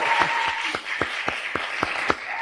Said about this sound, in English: can I just ask for one more round of applause for Emma for organizing this?